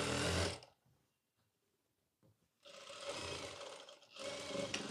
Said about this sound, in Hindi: इसको इस तरीके से सिलाई लगा लेंगे। ये मजबूती के लिए सिलाई होगी।